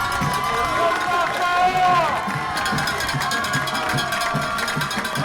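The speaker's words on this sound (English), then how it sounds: "Diamond defense asking the crowd to get up, stand up, get loud." Crowd noise at a 2017 high school football game between Sallisaw and Poteau, a sustained roar of spectators getting loud for the defense, steady and fairly near, with voices and a sweeping tone mixed into the din.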